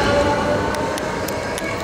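A metro train rumbles steadily in a continuous loud roar with faint metallic ticks, recorded from close by, probably aboard or beside the carriage in Barcelona.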